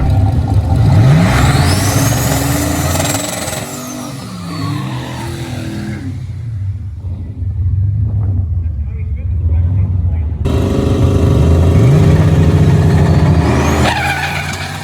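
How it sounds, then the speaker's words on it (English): Pickup trucks drag racing at Kearney Raceway Park during Rocky Mountain Race Week, loud engines revving and roaring past with whining turbo and tire noise, a quieter gap midway before another close, powerful pass; a voice talks at times. "Next pair of pickup trucks."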